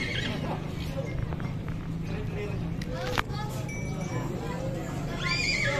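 Horses neigh and whinny at the Tolo horse market as a group of large horses is led in, repeated calls over clip-clopping hooves and a dense crowd hubbub, with a person talking.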